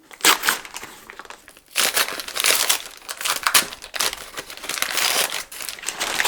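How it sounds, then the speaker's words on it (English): Plastic packaging of a Canadian military individual meal pack is torn and crumpled open by hand in loud, close bursts of crackling and ripping, with short pauses between pulls. "we're going to just tear our way in"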